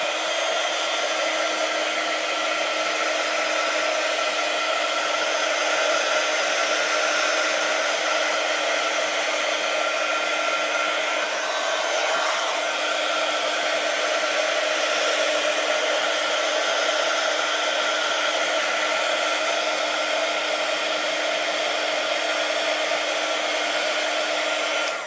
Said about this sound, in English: So I normally give it just a little bit of a dry with my heat gun first